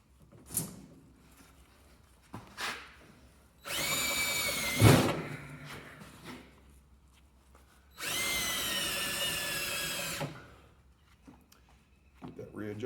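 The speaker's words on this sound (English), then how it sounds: "rotate the pinion with my drill" Power drill spinning the pinion of a Dana 44 axle during a re-gear, running in two steady whirring bursts of about two seconds each, close up, with quieter clicks and handling noises between.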